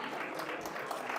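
Large crowd of over a hundred people applauding at an air hockey world championship final, a steady broad wash of clapping filling the whole moment without pause.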